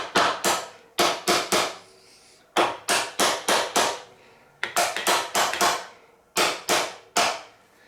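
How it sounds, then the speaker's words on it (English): Steering damper being tapped down onto the welded frame of a Suzuki DR650 motorcycle, heard as sharp, close hammer-like taps in quick bursts of three to five, separated by short pauses. "As soon as it gets honed in on there, you can tell the difference in the tapping sound."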